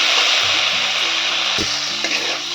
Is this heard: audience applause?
no